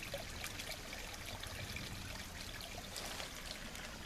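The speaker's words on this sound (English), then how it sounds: "right off of this big drain tube where it's pouring out right there" Water pours steadily from a big drain tube at mile 7 of a trail near Blue Marsh, a continuous broadband splashing stream, moderately close and unbroken throughout with no voices.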